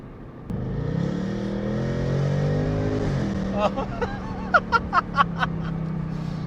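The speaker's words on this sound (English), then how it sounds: "But the engine scream, it's 10 out of 10." A Ford Mustang GT V8 engine revs up with a rising roar, then holds a steady drone while a person talks excitedly over it, close inside the cabin.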